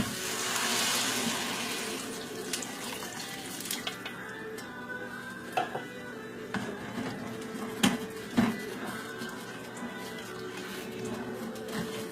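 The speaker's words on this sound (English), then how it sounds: "we're going to be adding 4 cups of water" Water rushes into a hot pan of browned meat for carne guisada with a loud hiss at first, then settles into bubbling with a few clanks of utensils.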